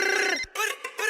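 A telephone rings in short bursts of bright, buzzing tone separated by brief gaps, loud and close.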